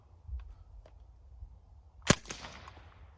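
A single sharp gunshot from a Ruger 10/22 converted to a machine gun, a loud crack with a short ringing tail, standing alone against faint low background rumble.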